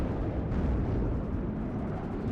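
Rumbling blast from an L-39 jet's bombing strike on infantry in the WARNO strategy game, a dense, steady low roar filling the whole moment with no distinct separate hits.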